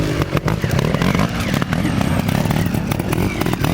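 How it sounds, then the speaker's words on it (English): A trials motorcycle engine revving and blipping close by as the rider works through a section, with clattering over rocks, loud and uneven. "Carl Ratcliffe riding the section now"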